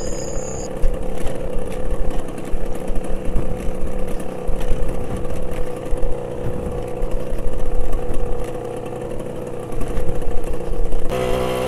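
A motorcycle engine runs steadily throughout, a continuous close rumble with slight shifts in revs as the bike rides along.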